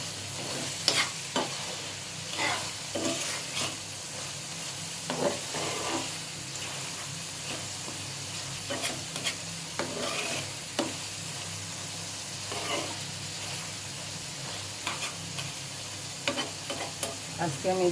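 Small mola fish frying in a pan with a steady sizzle, broken by repeated scraping strokes of a spatula as they are stirred; close and moderately loud, with no talking.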